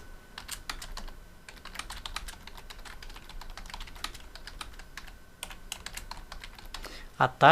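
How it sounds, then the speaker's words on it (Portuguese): Fast, continuous typing on a computer keyboard, with crisp key clicks in quick bursts and brief pauses, close and clear throughout. "é isso que nós vamos escrever como resposta."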